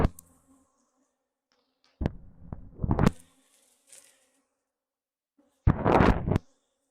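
Agitated honey bees at an opened hive during a fall honey harvest, buzzing in two or three loud, close bursts as individual bees sweep past, with only a faint hum in the quieter stretches between and no voices.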